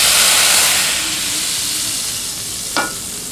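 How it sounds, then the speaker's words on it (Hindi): Spices sizzle and crackle steadily in hot oil, a loud frying hiss with a brief sharper burst near the end. "तड़के की ना आवाज़ बड़ी अच्छी लगती है"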